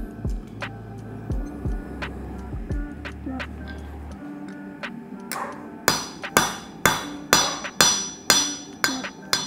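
A hammer forges steel for a nakiri knife: scattered lighter taps at first, then a steady run of loud, evenly spaced ringing blows close by, each decaying quickly before the next strike.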